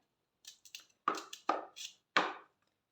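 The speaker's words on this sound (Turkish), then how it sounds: "fasulyemi ikiye böldüm ve bu şekilde doğruyorum" Green beans are chopped with a knife on a cutting board, a quick series of about eight sharp, crisp taps with uneven rhythm, close and clear with no talk.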